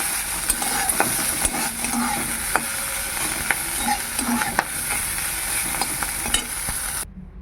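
Cauliflower leaves fry in a pan for a winter leaf paste, giving a loud, dense sizzle with sharp intermittent crackles and stirring clicks, steady until it cuts off abruptly just before the end.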